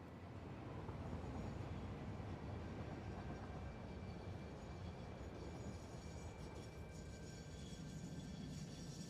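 A train rumbles past in the factory-building game Satisfactory, a steady low rolling drone with faint high tonal whine, continuous and moderately loud throughout with no talking.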